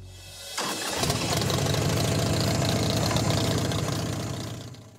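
A restored chopper motorcycle with a refurbished exhaust cranks and fires within the first second, then settles into a loud, steady, throbbing idle that fades slightly toward the end.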